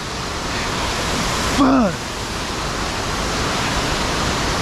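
Waterfall at South Lake Tahoe roaring up close, a loud, steady rush of falling water throughout, with a brief shouted voice near the middle.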